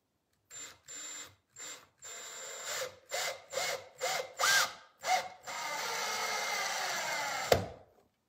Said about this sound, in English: I got to put a screw in the middle